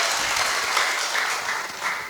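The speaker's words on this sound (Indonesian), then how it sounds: "kita sambut Bapak Novi Basuki dengan tepuk tangan yang paling meriah." Audience applause greeting a guest speaker at an event, a continuous, moderately loud spread of many hands clapping that holds steady throughout.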